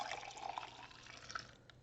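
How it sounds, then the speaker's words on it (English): Homemade soap nut liquid soap poured into a jar, a soft continuous liquid trickle and gurgle heard close and fairly quiet throughout the short moment, with no talking. "So now all we have to do is pour it in a jar."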